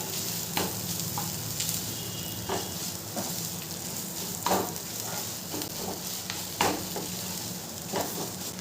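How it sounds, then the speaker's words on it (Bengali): Potatoes sautéing in a pan with spices and salt for aloo chop: a steady, soft sizzle with occasional scraping stirs and clinks of a spoon, fairly quiet and continuous, with no talking. "মশলাটার সাথে খুব ভালোটাকে আলুটাকে কষিয়ে নেব।"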